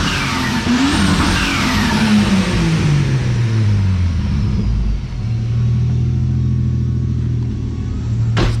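A turbocharged Ford Fairlane engine revs hard, its pitch climbing and falling in loud sweeps, then holds against the rev limiter with a rapid, stuttering bounce near the end.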